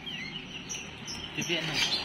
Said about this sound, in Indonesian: jalak kebun nih Ben